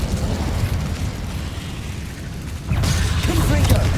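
A fire spell is cast in Hogwarts Legacy gameplay: a low rumbling whoosh that swells into a louder burst of flame partway through, set against steady game ambience.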